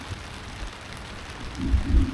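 Rain falling steadily at a beach campsite at Hat Kaeo, Phetchaburi, a soft broadband hiss throughout, with heavier low thumps of drops near the end and no voices.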